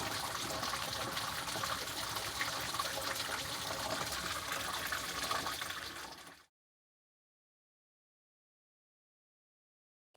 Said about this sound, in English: We just flick this lever over to drain. That runs right out and down the floor drain of the shower.